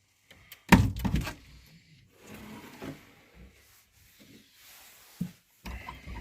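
A locked door is tried at night: a sharp knock or thud of the handle and door, followed by fainter rubbing, rattling and shuffling sounds, with a few soft bumps afterward and no talking.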